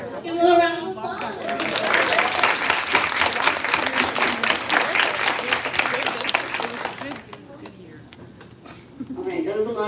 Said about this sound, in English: Give a little round of applause.